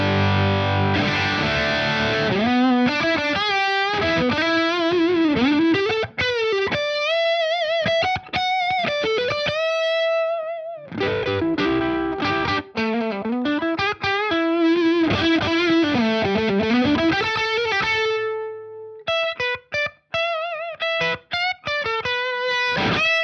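Distorted electric guitar lead played through a Diezel Einstein amplifier on channel 2, treble lowered and mids boosted, with smooth sustained melodic lines and bends, loud and continuous with short pauses, no talking.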